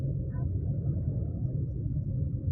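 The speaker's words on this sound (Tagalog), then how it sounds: "Yan ang motor. Ramdam mo?" A motorcycle engine rumbles low and steady while riding along a road, a continuous deep drone with a brief faint voice near the start.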